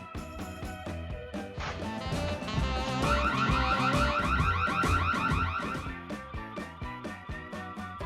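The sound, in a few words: car alarm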